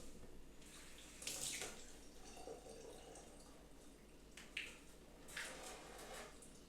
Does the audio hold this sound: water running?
yes